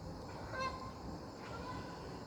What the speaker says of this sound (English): Canadian geese just flew off in like a V formation